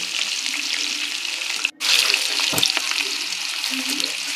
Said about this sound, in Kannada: ಬೆಳ್ಳುಳ್ಳಿನ ಒಂಥರ ಕ್ರಿಸ್ಪಿ ಆಗೋವರೆಗೂ ಕರಿಬೇಕು